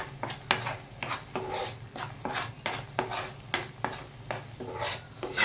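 Turmeric, chili powder and garam masala frying in a pan for a soybean curry, with a spoon stirring and scraping the metal in a loose rhythm over a faint sizzle, close and without talk.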